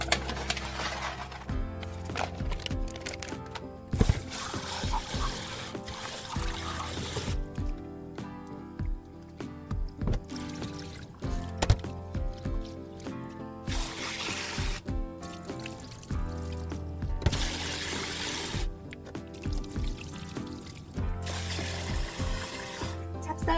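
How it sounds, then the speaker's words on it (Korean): Two cups of glutinous rice are washed in water in a sink, with running and splashing water, wet swishing and rubbing, and intermittent louder bursts of pouring. The sound is close and fairly quiet, with no talking. "찹쌀을 씻어서 불리겠습니다"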